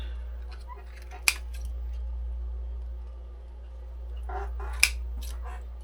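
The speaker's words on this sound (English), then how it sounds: "I'm going to take just a regular scissor and cut this little guy out." Ordinary scissors cut out a small paper shape, giving two crisp, isolated snips a few seconds apart with quiet rustling of paper between them and a low steady hum underneath.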